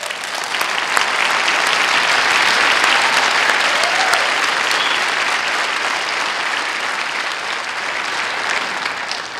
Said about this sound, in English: Would you please stand so we can applaud your bravery?